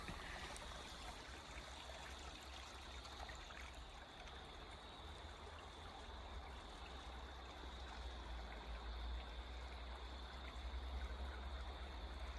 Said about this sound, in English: The first waypoint you'll see is this river with a wooden bridge.